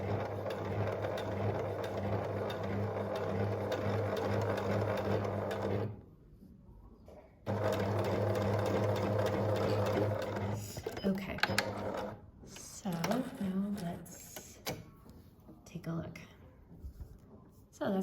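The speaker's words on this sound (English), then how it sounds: "sewing all the way until the very, very indent there where we trimmed to that V, and then just adjust a little and I'll sew up the other side" A sewing machine runs steadily, stitching along a V neckline, loud and close with a steady hum, pausing briefly and restarting before handling noises and fabric rustling take over near the end.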